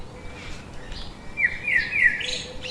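Bird calls played back from a phone: a series of thin, high chirps and rising whistled notes, clear over a quiet background.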